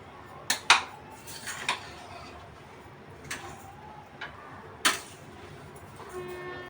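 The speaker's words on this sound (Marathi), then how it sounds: "एवढ्याला मी अर्धा किलो साखर यात घातली अशी मिक्स करून घेते एकदम छान" A spoon stirs sugar into a mixture in a metal pot, irregular scraping clinks and knocks against the pot sides spread over several seconds, close and moderately loud.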